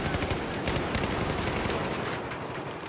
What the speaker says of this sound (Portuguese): É muito tiro, mas é muito gostoso isso, caraca.